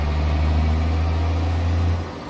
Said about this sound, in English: That's a damn nice truck sound.